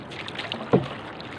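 A paddle strikes the water once beside a small fishing boat during a handline fishing trip in Eastern Samar, making a brief close splash over rain and faint wind.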